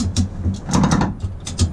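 A ratchet strap being tightened over a recovered motorcycle with worn-out forks, giving a series of close, quick mechanical clicks in short repeated bursts.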